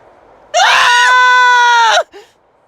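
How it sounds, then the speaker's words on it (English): A loud, harmonic scream rises and holds for about a second and a half, then cuts off abruptly, followed by a short faint tail, coming from a house in the video game Duet Night Abyss. "Screams from the direction of the Hypnos house."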